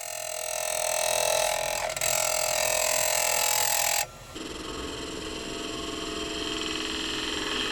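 A skew chisel shapes a spinning log on a wood lathe, producing a continuous close hissing scrape that changes tone abruptly partway through as the cut shifts.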